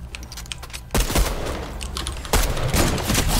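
Rapid video game gunfire crackles in dense bursts, loud and close, with brief pauses between volleys and a clicking keyboard-like rattle mixed in, no talk heard.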